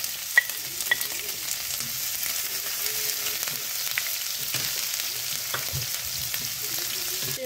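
Onion frying in a pan with toasted garlic for lumpia, a soft steady sizzle with small crackles and stirring clinks, close but quiet.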